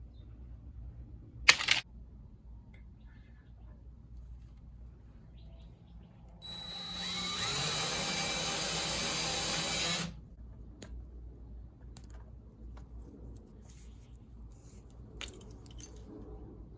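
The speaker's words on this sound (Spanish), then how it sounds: "Esta sería la pareja ideal, un taladro y esta máquina para pelar los cables de cobre" A hand drill driving a copper cable stripping machine, running in a single steady whirring burst of a few seconds, with brief clicks before and after.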